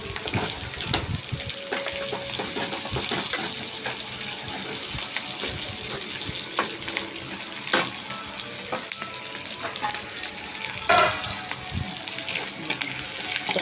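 Chilli chicken with green chillies frying hard over a full flame, a loud continuous sizzle with occasional stirring scrapes, close up and without speech.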